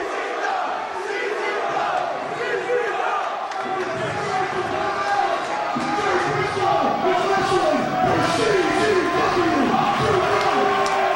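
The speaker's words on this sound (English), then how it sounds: "Listen to this crowd, Eric." A large wrestling arena crowd roars and cheers loudly and continuously, swelling toward the end, with commentators' voices mixed in underneath.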